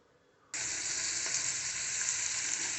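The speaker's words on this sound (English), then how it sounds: "So in the dish now I've got the sausages I just fried off." Cut sausage pieces hit a hot frying pan with a sudden burst of steady, loud sizzling that starts after a brief quiet moment and carries on without a break.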